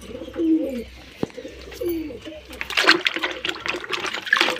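Pigeons coo in low, soft, rolling phrases close by, followed by a burst of brighter splashing and fluttering noise toward the end.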